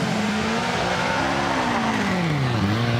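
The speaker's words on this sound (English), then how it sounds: "just wanting to listen to the 1800cc, one of the last of the special Renault Alpine engines in that car" Alpine A110 rally car with an 1800cc Renault Alpine engine on a forest rally stage, its loud engine note steady and rising and falling in pitch as it revs and passes nearby, with no talk over it.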